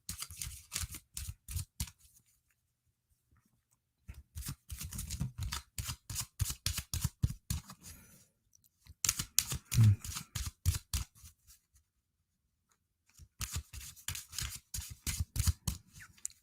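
Tarot cards are riffled and shuffled by hand in rapid, crisp flurries of papery clicks, three or four bursts separated by short pauses, close up with no talking.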